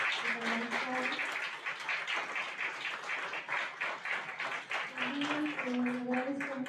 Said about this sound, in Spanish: pues sí les quisiera pedir un aplauso para los equipos que organizaron